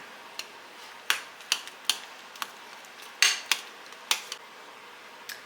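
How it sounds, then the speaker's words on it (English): A utensil clinks and scrapes against a microwave dish while eggs are stirred, giving a series of sharp, separate taps at irregular intervals with quiet gaps between them and no talking. "since these are eggs, you're going to want to stir these around a little bit"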